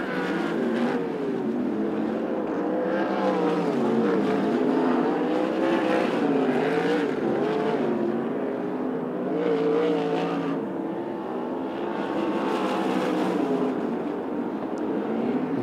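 Sprint cars race around a dirt speedway in an ASCS desert sprint car main event, their engines roaring loud and continuous as several cars drone and surge past together, with no talk over the noise.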